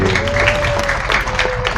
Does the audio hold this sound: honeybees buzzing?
no